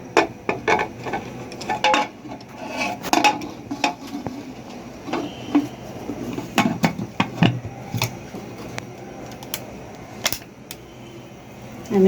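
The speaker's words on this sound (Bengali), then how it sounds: "আমি এখন ঢাকনাটা লাগিয়ে দেব।" Metal pot clatter while Khesari dal cooks, sharp clinks and knocks of a lid being set and shifted on the cooking pot, scattered irregular hits close by.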